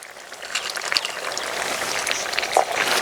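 Fried potatoes and a katla fish head drop into a pot of cooking bottle gourd, producing a hissing, splashing sizzle with a few soft clinks, close up and without talk.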